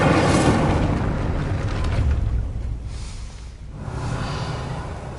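The Incendio fire spell cast in Hogwarts Legacy: a broad whooshing roar of flame that surges, dips to quieter crackle, then swells again, sounding close and loud with no voices.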